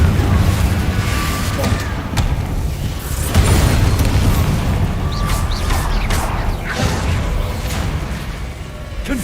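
Repeated fiery blasts from the Confringo spell in Hogwarts Legacy, Ravenclaw house play, booming over a dense layer of game music and effects, with short bursts and whooshes throughout and voices calling out spells.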